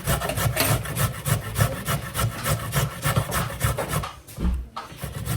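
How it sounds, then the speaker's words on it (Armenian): Garlic cloves and walnuts are grated by hand for a carrot salad, giving a steady, close rhythmic rasping of repeated strokes that briefly pauses near the end before resuming. "մի 3 ատամիկ սխտոր, ընկույզ, այս ամենը լավ քերելու եմ"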